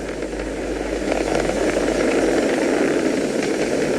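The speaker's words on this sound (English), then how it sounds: "We're throttling down to get ready for the period of maximum dynamic pressure." Falcon 9 rocket engines throttling down during launch, a loud, steady distant roar with a broad rumble that swells slightly and holds without a break.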